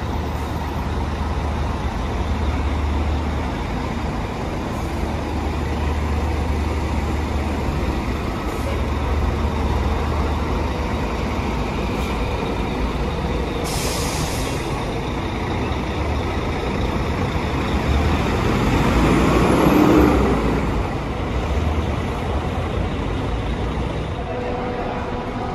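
A Guanabara intercity bus pulls in to unload passengers at the Goiânia bus station platform. Steady engine rumble and traffic noise run throughout, swelling briefly as the bus nears, with a short hiss and faint beeps in the mix.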